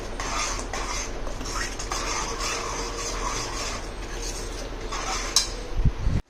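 A spoon scrapes and stirs through thick gravy cooking in a pan until the oil separates, steady rasping strokes with a few metallic clinks toward the end.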